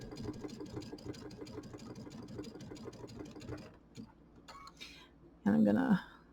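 A home embroidery sewing machine stitches binding on a small quilt with a fast, steady rhythmic needle patter, then stops, followed by brief handling clicks and a short louder burst near the end.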